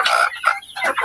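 A couple of quick clucks from hens on a provincial farm come close and clear in a brief burst.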